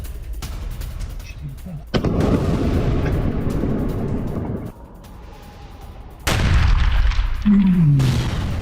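Heavy booms and rumbling blasts from an attack on Tuapse port roll through a noisy outdoor scene, with loud bursts near the start and again toward the end.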